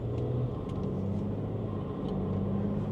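A BMW 340 xDrive with turbo and downpipe, making around 600 wheel horsepower, gives off a steady low engine drone and rumble from inside the car while cruising, with no clear revving.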